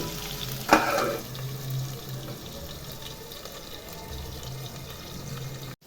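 Vegetables for a veg biryani frying in oil in a covered pan, a steady soft sizzle running throughout after a brief clatter near the start, with no talking.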